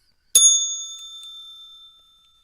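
A single bright bell strike rings out alone, a sharp metallic ding for the market opening that sustains with clear tones and fades slowly over about two seconds.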